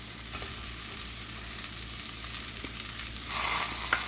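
Sliced bitter gourd sizzling steadily in hot oil in a pan for a stir fry, a continuous crackling fry with a brief stir toward the end, close and alone with no talk.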